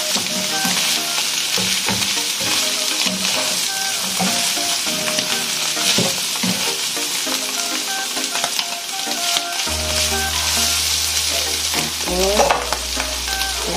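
Ingredients for salpicao sauté in a pan in a home kitchen, with steady loud sizzling and frying throughout and occasional stirring scrapes, alone without talk.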